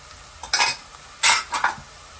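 Utensil stirring food in a pot while cooking carry spadon (swordfish curry), with a few scraping, clattering strokes in quick bursts close by, no talking.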